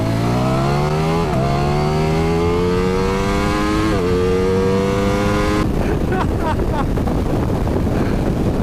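Two 2021 Ducati Streetfighter motorcycles accelerate side by side, their engines rising steadily in pitch through the gears, with heavy wind roar over everything.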